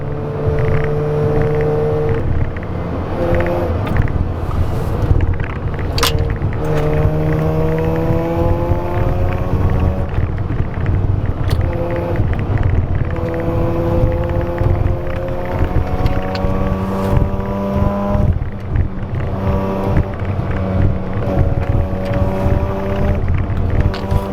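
Mazda RX-7 with a rotary engine driving on a road, a steady loud engine drone with rising and falling gear-pitched whine and wind rush throughout, no talking.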